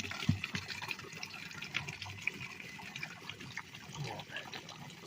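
Filtered limestone well water runs into containers outdoors, a steady gurgling trickle with splashy fill sounds throughout, fairly close and moderately loud.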